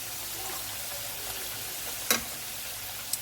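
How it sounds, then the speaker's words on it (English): Plantain chips fry in hot oil with a quiet, even hiss throughout, broken near the end by a couple of brief crackles. "So we are going to wait for this to fry as well."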